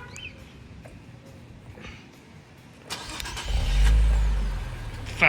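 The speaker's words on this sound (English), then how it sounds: "Factory remote start still works." An Infiniti Q60 engine, started by factory remote start, cranks and turns over partway through, then settles into a low, steady idle close by after a quiet start.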